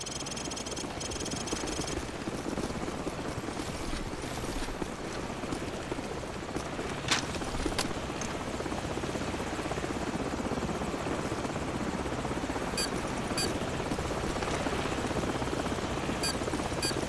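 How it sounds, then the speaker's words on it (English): Helicopter in Call of Duty 4: Modern Warfare, a continuous dense rotor thrum and engine whine holding steady throughout at moderate level, with faint game effects scattered over it. "So, grab a Stinger and take out that chopper."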